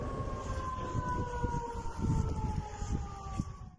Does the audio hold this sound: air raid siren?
yes